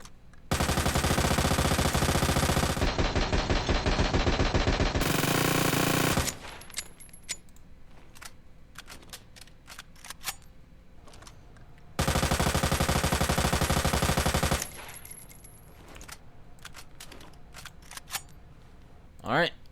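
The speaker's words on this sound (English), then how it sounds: "let's go ahead and test this submachine gun out" Submachine gun in Resident Evil 2 Remake, wielded by Leon, fired in two long sustained automatic bursts, each several seconds of dense rapid rattling, with quieter clicks and mechanical handling sounds between them.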